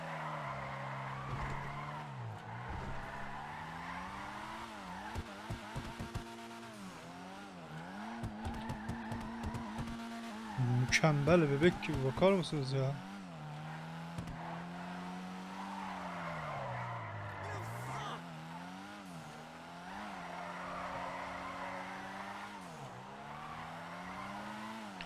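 A rear-wheel-drive car drifting in GTA Online, tires skidding and squealing steadily over a droning engine for the whole stretch, with a burst of sharper screeches near the middle and someone talking over it.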